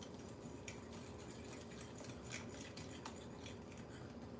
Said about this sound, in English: So I'm whisking 1 egg with a 1/2 cup of sugar.